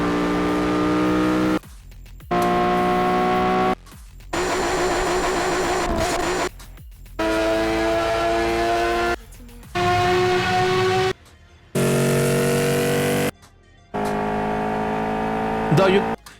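Engine sounds from Bugatti and other supercars in the racing game Asphalt 8, played as a string of separate steady revving passages with short silent gaps between them, loud and alone.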